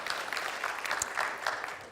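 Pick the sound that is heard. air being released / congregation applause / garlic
congregation applause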